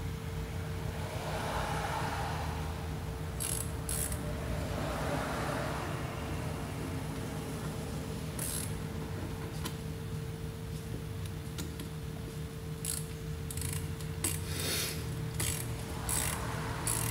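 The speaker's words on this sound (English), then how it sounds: "we're going to take our 8mm again and tighten them down." An 8mm ratchet tightens bolts on the rear wheel cylinder of a 2006 Ford Taurus, giving short bursts of rapid clicking over a steady low background hum, close and faint, with no talk.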